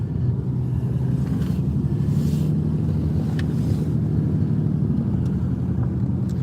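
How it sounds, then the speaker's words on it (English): An old diesel truck engine runs steadily with a low, continuous rumble and some wind noise, heard from close by with no talking. "That old truck's a purring"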